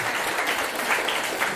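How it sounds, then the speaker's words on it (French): Audience applause at a school ceremony honoring a teacher, a steady, dense wash of clapping that holds at an even level for the whole stretch, with no voices standing out. "Donc des applaudissements."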